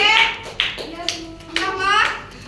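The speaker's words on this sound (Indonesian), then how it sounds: "tepuk tangan untuk Sulhan." Classroom applause during a micro-teaching practice session, with short bursts of clapping mixed with children's voices and chatter close by.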